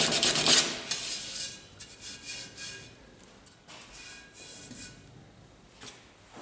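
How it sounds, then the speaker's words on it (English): Coarse 100 grit sandpaper rubs by hand across a Mazda Miata wheel being refinished for curb rash, giving repeated raspy scraping strokes up close, loud at first and then softer and uneven. "I'm just gonna knock it down with the 100 grit sandpaper before I move on to the finer stuff."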